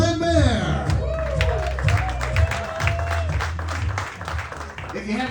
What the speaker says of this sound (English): I deserve so much more applause than that.